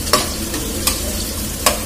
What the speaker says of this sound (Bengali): তাহলে কুমড়ো ভাজা হয়ে গেল।